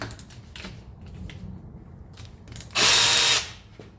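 A power tool buzzes in one short, loud burst while removing 15 mm bolts on a 1985 Mercedes 300TD wagon, following quiet clicks and light handling noises.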